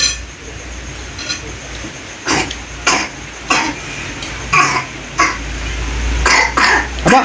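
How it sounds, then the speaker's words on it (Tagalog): Repeated harsh coughs come in a series, roughly one every half second to second, close and loud over a low background hum. "talagang inuubo"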